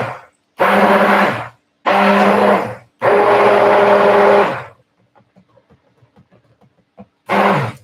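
Stick blender whirring through soap batter in four loud bursts of about a second each, separated by quiet pauses with faint clicks and knocks.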